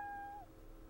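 A cat in the Japanese romance adventure game Full House Kiss gives one clear, steady meow that lasts under half a second and then fades into a quiet background hum.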